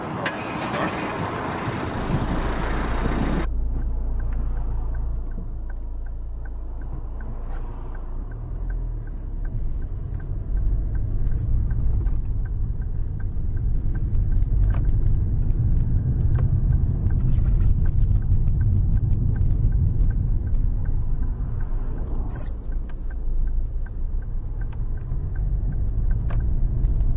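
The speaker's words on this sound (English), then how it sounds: "Put your foot on the brake and clutch, and the car will start." A 2010 Ford Kuga 4X4 Zetec turns over and settles into a low, steady engine rumble that builds as the car pulls away, close-miked and continuous with no talk.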